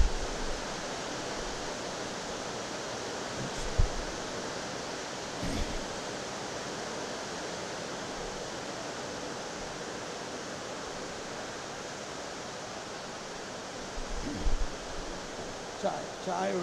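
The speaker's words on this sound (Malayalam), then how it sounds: "നല്ല മഴ." Heavy rain pours down in a steady, dense hiss of water, constant and close, with a few faint knocks and thumps.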